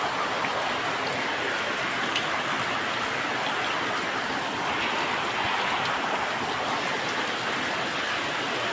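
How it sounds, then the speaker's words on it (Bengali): Steady, unbroken rain falls during flooding around village homes, a dense hiss that holds at an even level throughout with no breaks. "একাধারে বৃষ্টি হইতে আছে।"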